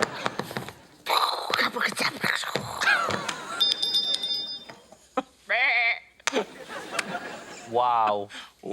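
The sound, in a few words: person imitating sheep bleating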